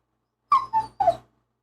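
A dog whimpers in three short, high, plaintive yelps in quick succession, fairly close and clear against a quiet background.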